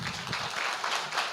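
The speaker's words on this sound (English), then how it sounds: "Could you give our respondents a round of applause?" Brief burst of audience applause at an international conference on contemporary Korean studies, given for the respondents, a dense wash of many hands clapping together at moderate loudness.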